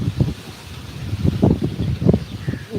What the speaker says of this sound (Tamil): என்ன இவ்வளோ காத்து?